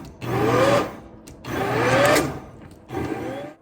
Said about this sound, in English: My immersion blender.